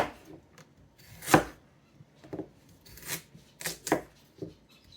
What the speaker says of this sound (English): Chop up some mushrooms.